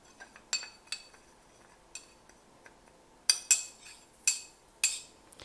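A spoon clinks against a glass while stirring an essential oil and water mixture, giving scattered light chimes and then several louder ringing strikes near the end, with no voices.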